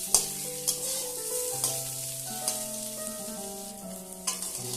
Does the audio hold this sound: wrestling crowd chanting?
no